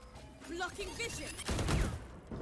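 Gunfire traded in a competitive esports video game match: a sharp burst of shots breaks out midway under mixed game sounds and tonal effects, fairly close and loud.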